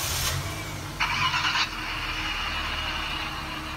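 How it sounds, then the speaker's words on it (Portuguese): A car engine cranks and catches after a remote start through a 2019 Cardot GPS car alarm, a short burst of starter noise followed by a low, steady idle. "Vou ligar o carro remotamente."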